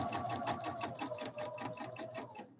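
A sewing machine runs a straight line of stitches along the fabric edge while making a throw pillow, with a fast, even needle chatter close up and steady throughout, with no talking.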